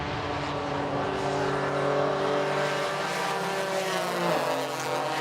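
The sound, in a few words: race car on track at Watkins Glen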